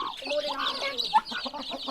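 Close chicken clucking on a farm, a quick run of soft, varied clucks and chattering calls that carries on steadily for a couple of seconds.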